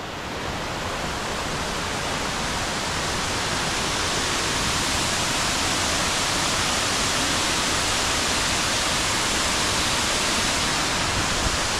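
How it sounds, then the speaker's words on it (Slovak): Twin waterfall at Banyumala on Bali, a steady, dense roar of falling water heard up close, loud and unbroken throughout with no voices. "No a toto je vodopád"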